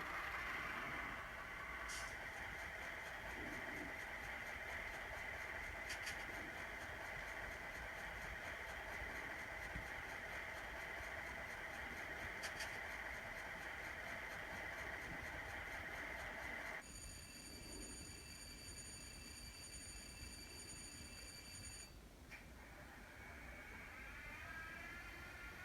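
EMD 645F diesel locomotive sound played by a Tsunami2 decoder in an N scale Kato Alco PA1 model, with a steady, faint engine hum throughout and a high tonal whine that changes partway through.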